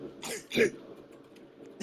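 A few short, muffled coughs or throat-clearing bursts close by inside a car, spaced out over a couple of seconds against a quiet background.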